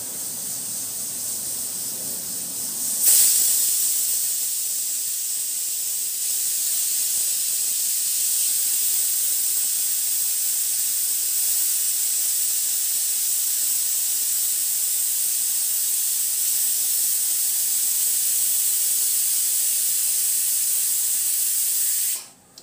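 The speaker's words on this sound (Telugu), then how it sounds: "5 విజిల్స్ వచ్చాయి కాబట్టి స్టవ్ ఆఫ్ చేసేసాను" A pressure cooker on the stove, cooking cucumber dal, gives off a sudden burst and then a long steady hiss of escaping steam that holds loud and unbroken for about twenty seconds before cutting off abruptly.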